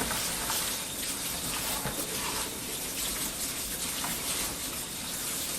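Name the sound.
rinsing mushrooms with fresh water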